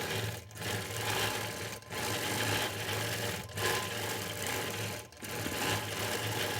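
A sewing machine running a regulated stitch meanders across a quilt in a steady, continuous hum and whir. Brief dips in the sound recur every second or two as the quilt is guided, and no one speaks over it.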